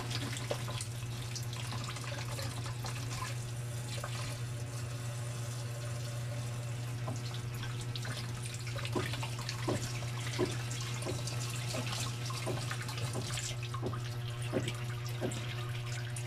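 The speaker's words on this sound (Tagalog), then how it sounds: "Tapos hugasan lang ng dahan-dahan." Tap water running steadily while vegetables are washed by hand in a kitchen, a constant close stream with intermittent splashes and drips, with no talk.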